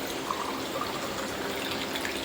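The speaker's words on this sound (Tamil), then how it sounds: "முதல்ல 1 டம்ளர் தண்ணி எடுத்துக்கிறேன்" A tumbler of water being poured for cooking rice: a steady, faint splashing pour that runs unbroken for a couple of seconds.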